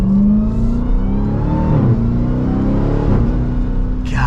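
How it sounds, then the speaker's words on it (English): A 2023 Dodge Durango SRT Hellcat engine revving loud and close, its supercharger whine rising with pitch sweeps as it accelerates and shifts, a deep exhaust rumble running steadily underneath. "You hear the whine of that supercharger, and there is just a thunderous exhaust back there."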